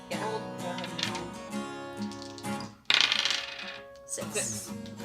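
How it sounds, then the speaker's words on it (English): Dice clatter and rattle repeatedly during a Machi Koro board game, several sharp rolling bursts close by, with brief pauses between throws. "Okay, roll the dice."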